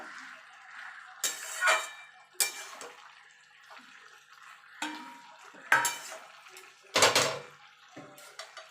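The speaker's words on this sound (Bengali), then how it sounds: "বড়িটা দিয়ে ভালো করে সবজির সঙ্গে মিশিয়ে নেব" Lentil dumplings (bori) get stirred into cooked spinach and vegetables in a pan, with a run of loud, irregular metal clanks and scrapes of the spoon against the pan between quieter stretches, no voices.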